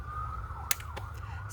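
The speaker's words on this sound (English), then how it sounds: "Sirens." A wailing ambulance or fire truck siren sweeps up and down at a moderate distance over a low traffic hum, with a few sharp clicks close by.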